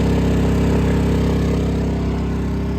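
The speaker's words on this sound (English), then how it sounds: "Generator revved up a little bit" A Honda EU2200 portable generator powering an air fryer hums loud and steady up close, its engine note holding an even raised pitch with no voices over it.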